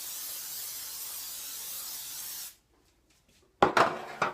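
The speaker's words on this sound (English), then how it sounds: "So you're just going to spray the entire" Cooking spray sprayed onto a cake pan makes a continuous, close hiss lasting a couple of seconds, then stops, followed by a brief silence and some clattering handling sounds.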